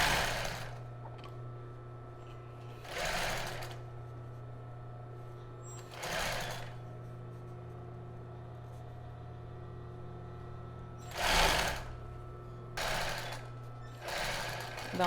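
A sewing machine stitches a child's bra, including a backstitch, in several short bursts of rapid mechanical chatter separated by quiet pauses, close and fairly soft over a low steady hum.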